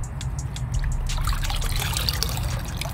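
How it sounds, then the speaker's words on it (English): Cannabis buds from an outdoor no-till grow are rinsed in a five-gallon bucket of water, giving a soft, continuous trickling and sloshing close by with no talking. "Give the buds a nice rinse"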